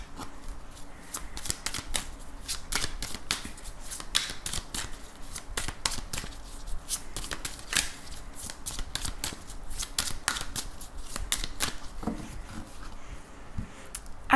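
Tarot deck shuffled continuously for a daily French card reading, a steady stream of close, crisp card slaps and riffles with no talk.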